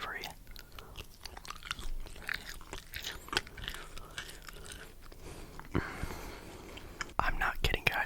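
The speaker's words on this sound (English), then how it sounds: "I might just sit here and just eat all of the bacon first" Someone eats candied bacon made with brown sugar, with close, soft chewing and crunchy bites heard under quiet whispered speech.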